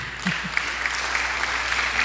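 Congregation clapping during a church sermon, a brief, moderately faint burst of applause in a hall with a low background hum.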